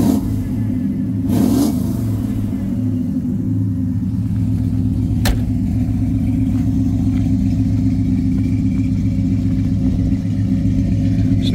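A 1937 Chevrolet Custom Deluxe idles close by with a steady, deep exhaust rumble, and a brief rev near the start lifts the pitch before it settles back to an even burble.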